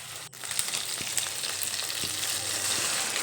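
Teasel gourd curry, just salted, being stirred in a frying pan: a constant close sizzle of frying with scattered soft knocks and scrapes of the spatula, no speech.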